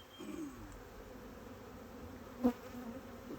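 Honeybees buzzing during a hive inspection as bees are shaken into the bottom of the hive, a steady close drone with one brief louder buzz passing by and no talk.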